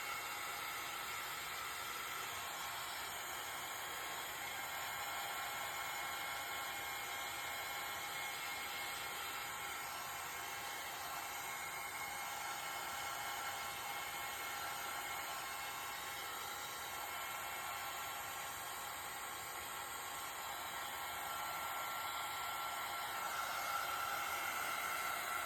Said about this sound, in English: My heat tool is very old. It's from back in the day when I was doing embossing.